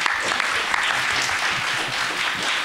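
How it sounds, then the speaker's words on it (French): An audience at a conference on environmental policy in NGOs applauds the speakers, a continuous moderate clapping from a room of listeners with no talk over it. "On peut les applaudir quand même."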